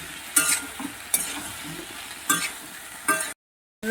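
Boiled cauliflower and potato fry in a pan under a steady sizzle, punctuated by four sharp scraping strokes of a spatula, before a brief cut to silence.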